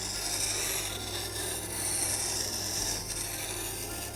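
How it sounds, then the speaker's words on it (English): A woodturning tool's bevel is rubbed on a sharpening stone in a continuous, fairly faint raspy scraping with a hiss, steady and close with no talking. "Then we're going to sharpen the bevel."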